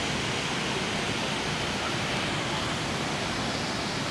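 The Vorotan river below the Devil's Bridge in Armenia rushes steadily, a dense, even roar of flowing water with no breaks, close and continuous throughout.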